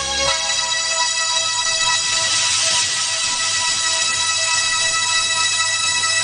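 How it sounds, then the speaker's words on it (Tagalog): A telephone rings loudly and steadily in a Hong Kong comedy film, an unbroken electronic ringtone with sustained harmonic tones filling the whole stretch, close and clear with no talk over it. "Ang telepono!"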